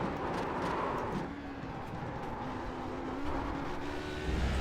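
HPD prototype race car in a sim racing game at Road America, its engine drone stuttering and cutting in and out at a steady pace, with a harmonic whine rising and dipping continuously over a broad noisy roar.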